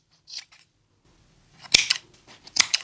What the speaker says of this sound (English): Then we're going to cut off the ends here.